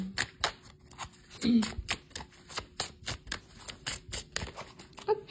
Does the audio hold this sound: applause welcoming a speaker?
no